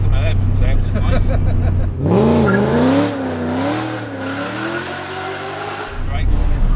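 A supercharged 4.4-litre V8 BMW E30 Touring accelerates hard in second gear, the engine note climbing and wavering loudly up close before a brief lift and renewed roar near the end.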